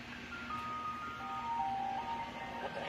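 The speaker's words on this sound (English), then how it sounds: "It's an ice cream truck, stupid." An ice cream truck plays its tinkly jingle in a film scene, a thin melodic tune running steadily over a low ambient hum with no talking.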